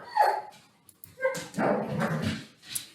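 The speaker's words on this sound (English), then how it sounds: "it's my dog" A dog barks and yips in a few short, loud bursts close by, with brief whimpering tones between barks.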